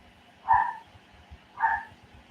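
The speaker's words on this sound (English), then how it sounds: "Excuse my dog." A dog barks twice, two short sharp woofs about a second apart, fairly close in a quiet indoor room with a faint low hum behind.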